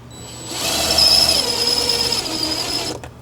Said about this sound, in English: And you use your power tool.